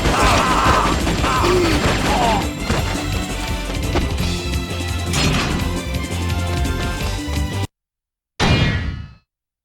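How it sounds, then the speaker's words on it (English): Heavy machine gun firing in the Metal Slug 3D video game on PS2, a dense, loud, continuous clattering barrage layered with mechanical clanks and game effects, cutting off abruptly near the end. "Heavy machine gun."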